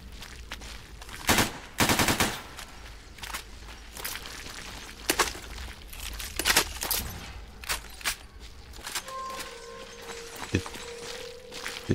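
Gunfire aimed at a bloodsucker in Stalker GAMMA: scattered single shots and short bursts at uneven intervals, sharp and loud, with quieter footsteps and movement between them.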